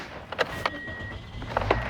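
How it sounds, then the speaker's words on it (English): A car's electric power window rolls down with a steady motor whine, close by, during a stop at an Esso/Circle K car wash, with a few soft clicks and knocks around it. "Roll out my window."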